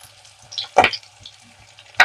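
Fish pieces shallow-frying in a little oil in a pan, a faint, quiet sizzle broken by a sharp spatter burst near the middle and another at the end.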